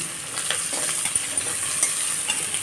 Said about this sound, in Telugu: తరిగి పెట్టుకున్న ఉల్లిపాయలని ఇందులో వేస్తున్నాం